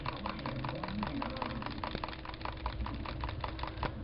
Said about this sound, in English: Hopefully my keyboard isn't too loud.